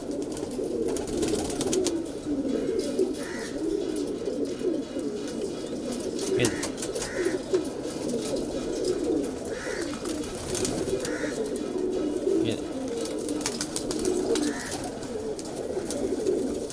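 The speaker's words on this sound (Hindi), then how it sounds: "बहुत प्यारे कबूतर हैं।" Kalpare high flyer pigeons coo softly and repeatedly in a loft in Patna over a steady background murmur, their low calls recurring every second or two at moderate distance.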